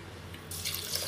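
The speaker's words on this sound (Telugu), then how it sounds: "ఇప్పుడు నీళ్లు పోసుకోవాలి మనము" Water from a glass is poured into a pressure cooker for pongal, a soft, close splashing stream that swells louder midway through the short moment, with no one talking.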